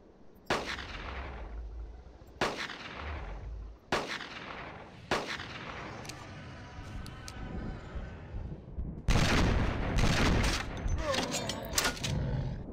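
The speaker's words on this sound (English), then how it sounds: "I think the tree took a few of those shotgun pellets" Revolver and shotgun blasts in the Carnivores Genesis video game, a run of loud, sharp booming shots spaced a second or two apart, the later ones followed by rumbling echoes and a dense burst of gunfire.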